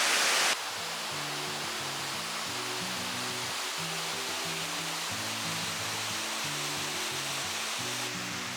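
Steady, full-bodied roar of a waterfall close by in Stowe, Vermont, a constant broadband rush with low rumbling underneath and no voices.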